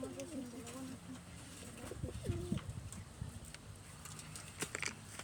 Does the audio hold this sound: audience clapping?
no